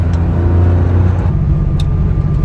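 A Porsche sports car engine drones steadily and loudly with a deep, throaty rumble, as if cruising along a road; no one speaks.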